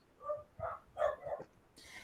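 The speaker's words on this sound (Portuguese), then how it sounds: "Peraí, o cachorro." A dog barks four times in quick succession at a steady pace, moderately close and fairly loud, with no talking over it.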